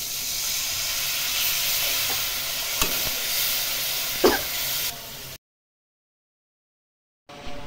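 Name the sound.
onion and spices frying in a pan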